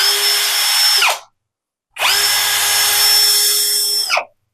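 A 21V JPT brushless drill running on a Power Share battery, heard as two loud, steady high-pitched whirring bursts, the first about a second long and the second about two seconds, each winding down, with a short silence between them.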